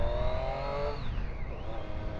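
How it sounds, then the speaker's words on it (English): A 2017 Triumph Street Triple RS motorcycle with an Arrow exhaust revs up and falls back in a throaty drone, with pitch sweeping down then rising again, fairly close and steady. "the Arrow exhaust definitely makes it sound good"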